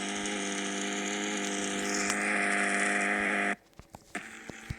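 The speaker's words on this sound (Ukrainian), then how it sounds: "Я чую звук мотора." Video game engine drones in a loud, steady buzzing tone that rises slightly in pitch, then cuts off abruptly, leaving a few faint clicks and taps.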